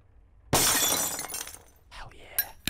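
Glass window in a door shatters loudly in the Nun Massacre game, a sudden crash followed by tinkling shards and a few later sharp clinks.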